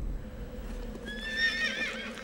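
A horse in the video game Shadow of the Colossus gives a single clear whinny midway through, moderately loud over a low background hum, with no talking.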